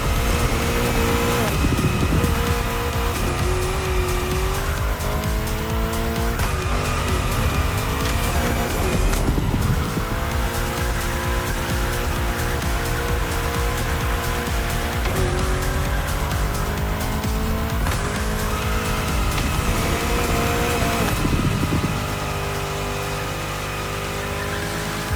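A car drifting in The Crew Motorfest video game, its engine roaring steadily with long continuous tire squeals and skids that rise and fall throughout, loud and close with no talking over it.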